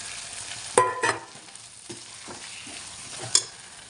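A pan sizzles steadily with oil frying fish, broken by a few sharp clanks and scrapes of a utensil, no talking.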